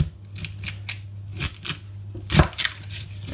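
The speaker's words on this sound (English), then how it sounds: "I'm gonna cut onions normally." Knife slicing through onions on a cutting board, several sharp close crunchy cuts spaced unevenly with short quiet gaps between them, no talk.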